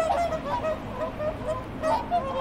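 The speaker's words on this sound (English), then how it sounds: "Let's listen to what a swan sounds like." Several swans honk repeatedly in a noisy chorus, their calls overlapping and carrying across open water.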